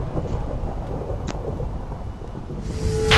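A lightning strike in a video game brings loud, continuous rolling thunder with a brief sharp crack partway through and a rising roar near the end.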